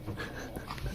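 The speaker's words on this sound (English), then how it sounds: "That's my dog." A dog whimpering softly close by, with brief snuffling breaths and small whines that are fairly quiet and that last only a moment.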